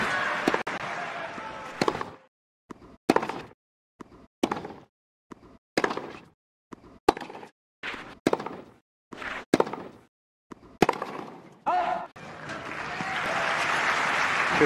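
Tennis crowd at the 2021 BNP Paribas Open semifinal breaking into applause, a burst of clapping that thins into scattered sharp claps before swelling again into a loud, sustained ovation.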